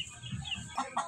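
A long-necked Thailander rooster gives a few short, close clucks, brief throaty calls rising in two quick bursts near the end.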